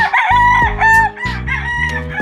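Several roosters at a gamefowl coop crow loudly in overlapping calls, one long crow after another filling the space with no talk over them.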